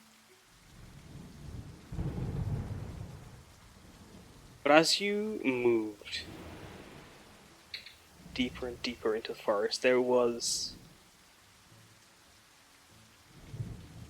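Rolling thunder rumbles over a steady rain backdrop during a tabletop role-playing session, with a voice narrating clearly on top of the storm.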